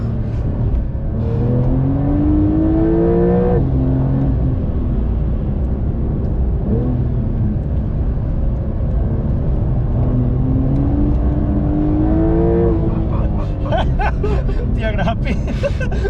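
A Porsche 911 Carrera 4 of the 992 generation with 385 hp and new Michelin tyres accelerates hard, its engine loud from inside the cabin and climbing in pitch through repeated gear changes while occupants talk and laugh.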